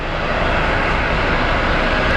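Steady broadband roar of airliner engines at Phoenix Sky Harbor International Airport, planes near the terminal, loud and continuous with no talk.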